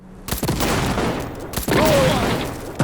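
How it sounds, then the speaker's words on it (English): Gunfire in the video game Cyberpunk 2077, two loud, close bursts of rapid shots, each followed by a sustained reverberant crackle and rumble. "I like the gunshot sound effects."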